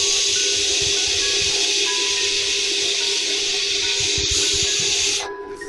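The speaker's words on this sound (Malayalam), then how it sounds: "എന്നിട്ട് നമുക്ക് കുക്കർ അടുപ്പിൽ വെച്ച് 2 വിസിൽ കേൾപ്പിച്ചെടുക്കാം." A pressure cooker on a stove, cooking egg biryani, gives off a loud, continuous hiss of steam that holds steady for several seconds before abruptly cutting off near the end.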